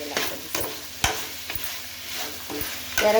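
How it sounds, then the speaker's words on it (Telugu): Oil sizzles in a pan while a chicken curry cooks, a soft steady hiss with a few sharp utensil clicks and scrapes at intervals. "ఇప్పుడు కొంచెం ఆయిల్ వేస్తాను ఆయిల్ వేసినాక బాగా"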